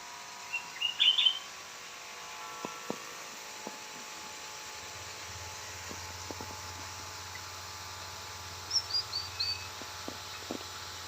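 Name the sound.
sooty-headed bulbul (kutilang) chirping in aviary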